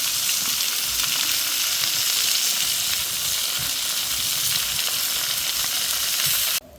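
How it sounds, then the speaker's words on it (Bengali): Vegetables dropped into hot oil with cumin seeds fry in a steady, loud, close sizzle with faint stirring, running continuously before cutting off abruptly at the end. "তেলের মধ্যে জিরা দিয়ে দিছি এখন সবজিটি দিয়ে দিব দিয়ে দিলাম"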